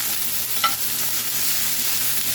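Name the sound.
spatula stirring and scraping steak pan with salt and pepper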